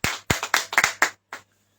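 A church congregation claps hands in the name of Jesus: about eight sharp, close claps in an uneven burst, then one last clap and silence.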